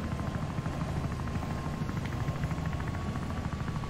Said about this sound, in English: I'm gonna get the helicopter.